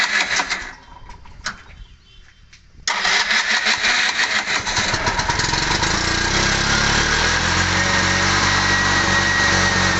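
A CNG auto rickshaw with a starting problem cranks while a mechanic adjusts its gas setting. After a few faint, uneven attempts, the engine catches near three seconds and runs loud and steady, close by, for the rest of the clip.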